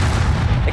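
In the Hogwarts Legacy video game, a Bombarda explosion spell goes off as a short, heavy, booming blast with a dense low rumble, loud and close, lasting under a second.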